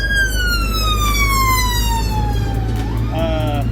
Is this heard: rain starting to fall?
no